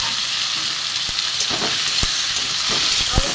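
Thinly sliced potatoes frying over a high gas flame in a pan with onions, a steady close sizzle broken by a few sharp clacks of a spatula against the pan.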